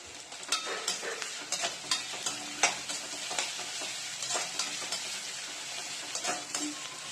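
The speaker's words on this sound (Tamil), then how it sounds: "நம்ம பொடியா கட் பண்ணி வச்ச வெங்காயம் சேர்த்துக்கலாம். வெங்காயம் நல்லா வதக்கிக்கலாம்." Finely chopped onions sautéing in a pan with a little cumin, a steady sizzling hiss with repeated stirring scrapes throughout, close and fairly quiet.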